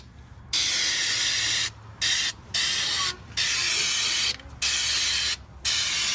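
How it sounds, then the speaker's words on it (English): Aerosol undercoating sprays onto the pinch weld of a 2005–2010 Jeep Grand Cherokee WK in loud, close hissing bursts, six on-off blasts of about a second each separated by short silences. "just go ahead and spray on a liberal amount of the undercoating."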